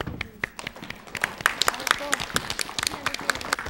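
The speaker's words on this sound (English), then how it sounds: "Everybody, give her a clap." Scattered clapping from a small audience, likely children at an elementary school quiz show, with uneven, sharp claps of varied loudness and voices talking over them.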